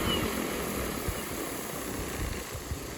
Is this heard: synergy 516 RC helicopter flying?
yes